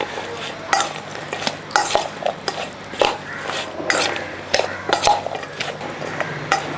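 Raw sour mango pieces being mixed with turmeric and fenugreek powder in a Kerala-style preparation, with irregular scraping and clinking strokes of a spoon against the vessel, close and moderately loud.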